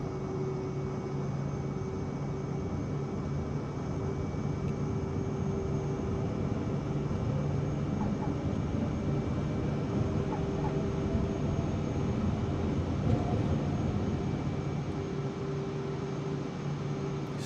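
An airliner takes off in Microsoft Flight Simulator 2024, a steady, even engine roar with a constant whine, holding at one level throughout with no talk.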